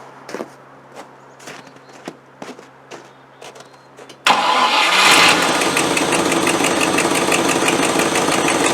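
A Land Rover NATO 110 with a V8 engine is cranked cold: a few faint clicks and knocks, then the engine catches abruptly and settles into a loud, steady running roar that continues to the end.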